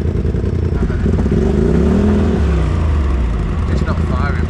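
A misfiring UTV engine in limp mode idles roughly and unevenly, with a loud, uneven low rumble and rattle, up close under voices.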